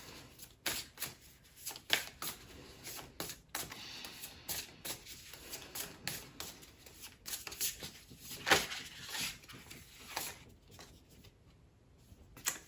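Tarot cards are shuffled by hand in soft, irregular bursts of riffling and flicking, close and fairly quiet, with brief pauses between.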